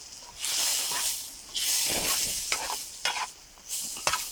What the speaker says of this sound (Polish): Tu się pięknie pieczarki smażą.